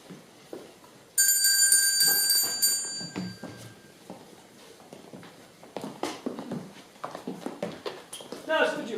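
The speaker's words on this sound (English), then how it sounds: "Ring the bell, please." A bell rings with bright, sustained metallic tones for about a second and a half, loud and close, with speech and footstep-like knocks around it.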